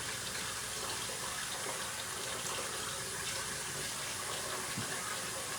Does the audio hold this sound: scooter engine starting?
no